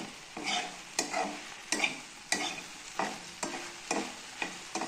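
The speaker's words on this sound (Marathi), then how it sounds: "आणि आता थोडा मोठा गॅस करायचा आणि चांगली परतून घ्यायची खालीवर खालीवर" Okra being stir-fried over high heat, a spatula scraping and turning it in the pan in steady strokes about every half second, each stroke bringing a burst of close, crisp sizzle. No one speaks.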